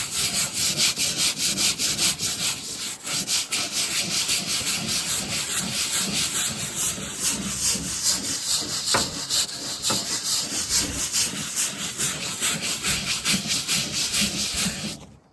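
Steady, loud scrubbing of a teak toe rail on a boat, a continuous close rasping rub with repeated strokes and no talk.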